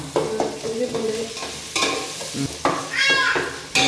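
Tomatoes, onions and cloves frying and being stirred in a pan while biryani is prepared, with a steady close sizzle broken by repeated scraping stirs and a few clattering utensil knocks.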